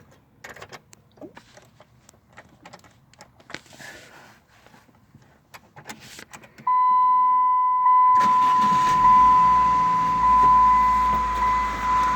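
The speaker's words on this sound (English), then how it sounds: "I'm gonna also start it up, and I'm gonna snap the throttle to see what the results are on that." A 2002 Saturn SL1 is started after a few quiet seconds of shuffling and a steady electronic chime; the engine then fires and runs loud and close, droning on to the end.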